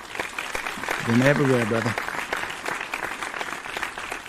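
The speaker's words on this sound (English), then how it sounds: "We need to give you some applause for that." Applause on a sports and culture podcast, a steady patter of clapping running under a brief spoken remark from a man, moderately loud and continuous throughout.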